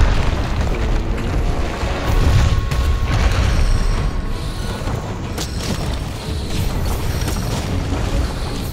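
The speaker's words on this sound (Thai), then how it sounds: "ระวังระเบิด" In Monster Hunter World, a hunt against Uragaan brings booming, rumbling blasts with a continuous low roar of debris and action, loud and dense throughout.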